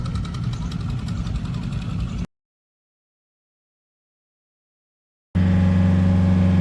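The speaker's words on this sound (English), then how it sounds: "The sound of the engine is quite loud" A boat engine running on the way to Cai Rang floating market in Can Tho, Vietnam: a loud, steady mechanical drone and hum, cut by a stretch of total silence, then resuming with a strong low rumble.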